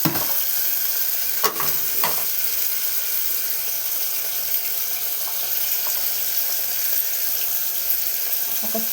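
Cumin, mustard seeds, dried red chilli and turmeric frying in about a spoon of oil, making a constant close crackling sizzle with a couple of sharp spoon knocks at the start and light stirring throughout.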